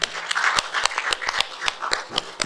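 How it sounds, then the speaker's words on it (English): An audience claps for a speaker, a former finance head, being welcomed at a Sri Lankan business event. The applause is dense and steady with sharp individual claps standing out, moderately loud and continuous throughout. "Give a big round of applause to Mr."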